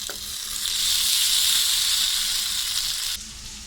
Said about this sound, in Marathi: आता आपण परतून घेऊया मच्छी।